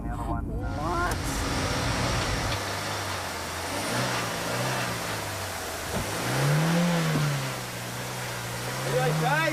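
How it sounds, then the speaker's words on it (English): Car engine revving and surging in uneven bursts while the car sits stuck on a hydrant, loud and close, with people talking over the engine noise. "Will you turn the engine off, please?"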